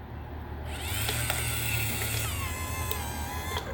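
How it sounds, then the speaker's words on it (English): A 1976 Cadillac power antenna motor, limiter-base restoration, whirs steadily as it fully retracts the mast, a continuous close mechanical grinding drone with a rising ratchety whine and a few small clicks, no talking. "Full retraction, and the system self-parks."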